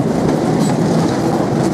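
Inside a moving train in Sri Lanka, a loud, steady rumble of wheels on the rails rolls on without a break, with faint clacking and no voices.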